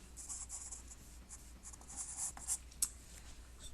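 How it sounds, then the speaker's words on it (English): Charcoal pencil scratching across paper while shading a sphere, soft repeated back-and-forth strokes with a few sharper taps, close and quiet with no talking. "If I see a line this way, my pencil strokes go the other way"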